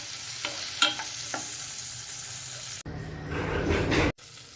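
Chopped tomato being sautéed with spoon stirs in a hot pan for a spicy potato samosa filling, a steady close sizzle with scraping stirs, rising to a louder frying hiss midway.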